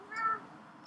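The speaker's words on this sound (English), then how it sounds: "Sorry, the cat's attacking me." A house cat lets out one short meow, a clear, close, mid-pitched cry lasting under half a second before a quiet room.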